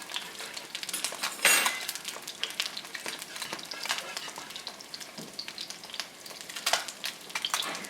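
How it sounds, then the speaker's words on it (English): Creamy polenta stirred in a hot pan alongside crispy-skinned bronzini, giving a steady sizzle and frying hiss with scraping strokes and occasional light clinks of the utensil, up close and without speech. "Just a nice stir."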